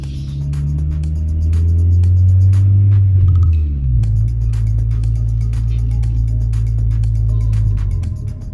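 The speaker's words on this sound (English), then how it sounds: "Now I need to get past these speed bumps." The engine of a 1993 Honda Prelude SI rumbles steadily and loudly from inside the car as it moves over speed bumps, with its pitch falling midway and then holding low and constant.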